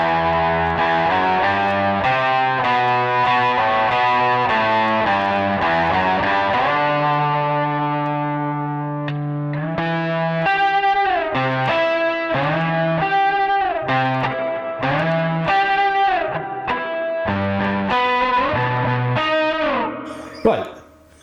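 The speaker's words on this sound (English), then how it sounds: "it brings in the boost and it brings in the mosaic for the chorus sort of Tarantino style riff" Distorted electric guitar plays a driving Tarantino-style riff through a boost pedal and Mosaic effect pedal, with a shimmering, warbling effect and boosted gain, continuous and loud, ending abruptly.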